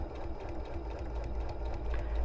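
A sewing machine runs at a steady, unhurried pace, stitching forward and backward along a line on a foundation paper pieced bird block with setting triangles; a soft, continuous mechanical hum.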